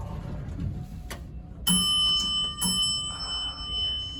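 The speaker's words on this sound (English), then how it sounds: "Lowest pitch floor passing chime" The floor-passing chime on a modded Schindler traction elevator at 1515 K St in Sacramento rings a single clear, low-pitched bell tone that hangs and decays over steady cab hum, followed by a softer second strike.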